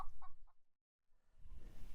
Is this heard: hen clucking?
yes